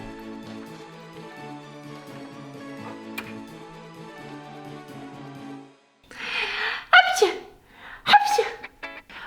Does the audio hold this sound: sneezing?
yes